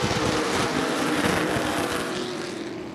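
Race cars roar around a speedway in a steady, loud blur of engine noise. The sound fades slightly as the pack moves away.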